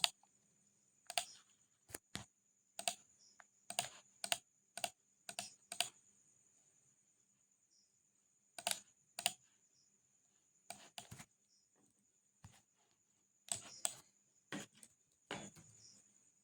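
An ID and password typed on a computer keyboard, quiet irregular bursts of key clicks separated by short pauses, with a faint steady background tone.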